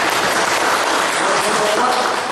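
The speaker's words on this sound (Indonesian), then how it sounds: "tepuk tangan dulu" Audience applause in an Indonesian talk setting, a dense, steady wash of clapping filling the room at close range without a break.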